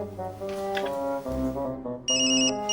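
A telephone rings out after a number is dialled on a children's show, a melodic electronic ringtone of short repeated tones with a brighter high-pitched burst near the end, close and clear with no talk.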